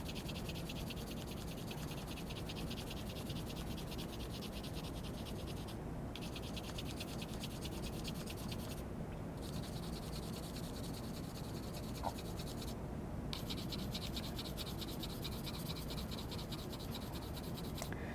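Close, rapid scratching of a pencil sketching over a stencil shape on a craft surface, a continuous quiet rub with a few brief pauses.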